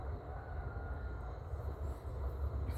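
Steady low rumble and rattling rolling of a train on Thailand's Isan line passing over a large Japanese-built steel bridge, continuous and fairly loud throughout.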